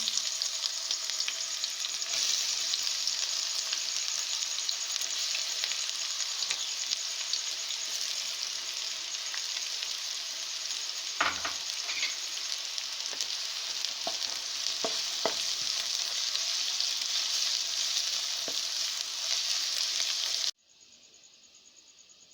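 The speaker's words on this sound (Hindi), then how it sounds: "घी गर्म होने के बाद हम इसमें प्याज डालेंगे।" Onions fry in hot ghee, a dense, continuous sizzle close up with scattered scraping stir clicks, before cutting off abruptly near the end.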